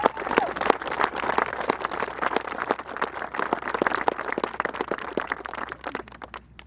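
Round of applause at an outdoor ice arena groundbreaking ceremony, many hands clapping in a steady dense patter that thins and fades out toward the end.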